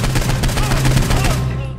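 Sustained rapid automatic gunfire in the Saints Row 4 video game, dense repeated shots with heavy low thump, loud and close, fading off at the very end.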